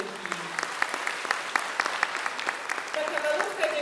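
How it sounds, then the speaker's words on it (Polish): Audience applause at a music school open-day concert, many hands clapping steadily with a few sharper individual claps standing out, and a voice briefly audible near the end. "Proszę Państwa, wielkie brawa dla Julki."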